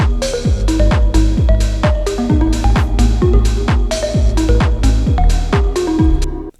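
Sidechained FM synth bass with a full house drum pattern: evenly spaced kicks and crisp hats over the ducking bass, a driving loop that is loud and alone.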